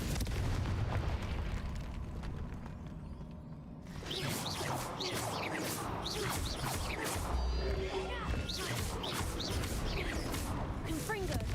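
A Confringo blasting spell erupts into a fiery explosion in Hogwarts Legacy. A heavy burst hits after a brief lull, followed by crackling debris and combat noise. Voices shout over the fight.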